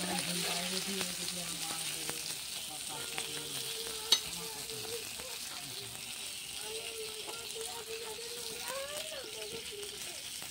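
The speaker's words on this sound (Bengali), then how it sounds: "মাছ ভাজা কমপ্লিট, তরকারিতে দিয়ে দিলাম মাছ" Pieces of fried fish go into a simmering curry, producing a soft, even sizzle and bubbling at low volume, with a tonal voice-like hum running over it and one sharp click midway.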